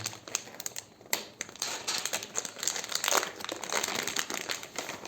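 Someone opens the plastic package of a field wet shower, producing close, busy crinkling and rustling with sharp crackles throughout.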